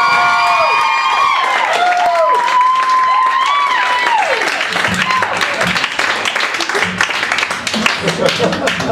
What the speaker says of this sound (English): Round of applause for Kate Stone!